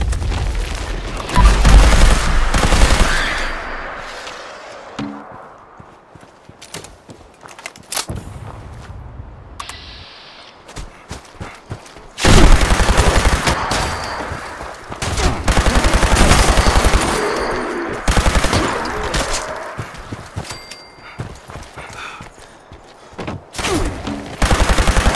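An automatic laser rifle in Fallout 76 fires in long rapid bursts, loud and dense, with booming impacts and short pauses between volleys.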